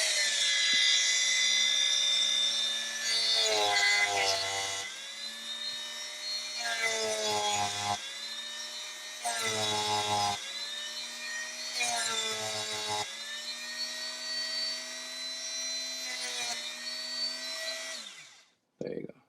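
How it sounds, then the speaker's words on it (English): A Dremel grinds chrome plating off a guitar bridge in repeated high-pitched whining passes, with the pitch dipping each time the bit bears down on the metal, loud and close until the tool spins down at the end. "You can use sandpaper or you can use a Dremel like I'm doing it now."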